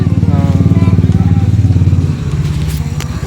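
A small scooter engine putters close by with a rapid, even pulsing idle, briefly dropping in pitch near the end.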